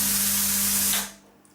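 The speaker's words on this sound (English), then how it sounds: "Most of the noise is coming from the air from the gun." A Hush Endura spray tan machine pushes air through its spray gun in a steady, close hiss over a low motor hum, then the airflow cuts off abruptly and leaves near silence.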